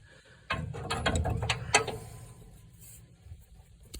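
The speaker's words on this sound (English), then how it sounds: "So I'm gonna put that socket on there, and I'm using a 6-point because I don't want to round it off." Burst of rapid mechanical ratcheting clicks from a 6-point socket wrench working on a nut during a coil spring job on a 1963 Pontiac Star Chief, close and fairly loud, fading to quieter handling noise afterward.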